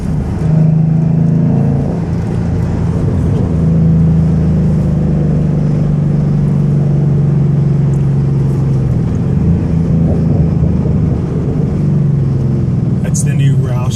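A 2014 Ford Mustang GT with a Roush exhaust accelerates through the gears on a hilly road, heard from inside as a steady loud deep engine drone that rises and dips with each shift.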